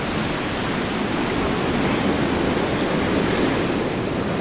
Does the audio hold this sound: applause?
no